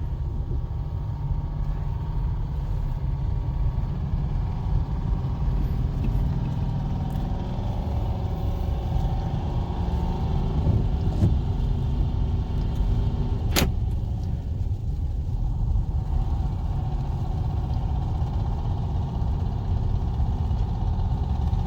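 Car driving a lap around a block, a steady, continuous road and engine rumble close by with faint rattles and one sharp brief click midway, no talking.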